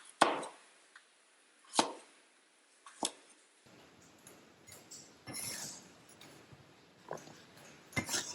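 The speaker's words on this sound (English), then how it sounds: "I cut away the parts that have sprouted, peeled them, and cut them into smaller pieces" A knife chopping peeled baby yam into small pieces on a cutting board: a few sharp separate chops, sparse and fairly quiet, with soft kitchen clinks and handling noise between them in a quiet room.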